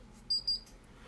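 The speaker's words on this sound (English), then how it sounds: "okay, so you can hear that it beeped." An assembled rempuck electronic device gives two short, clear, high-pitched beeps in quick succession, close and alone against a quiet room.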